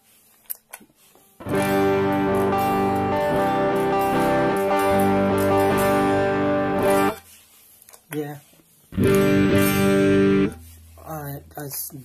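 Electric guitar chords through the overdrive of a Mosky DTC 4-in-1 pedal ring out in two sustained bursts with a quiet gap between, the tone gritty and thick.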